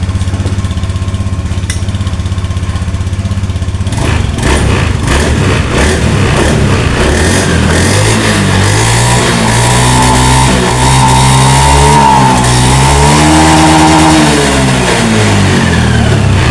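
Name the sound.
motorcycle engine starting and revving after fuel pump repair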